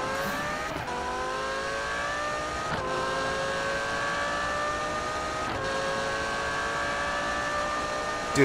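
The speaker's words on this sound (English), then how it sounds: "this car accelerates hard as shit" A car in the racing video game Need for Speed (2015) revs hard through rising gears, a loud continuous engine whine climbing in pitch with brief dips at each shift.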